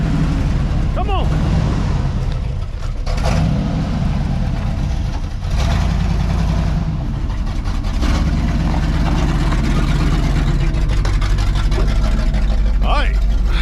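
1979 Chevrolet Squarebody pickup with a 350 V8 rumbling loud and close, a deep steady engine drone that dips briefly and resumes, with people talking over it.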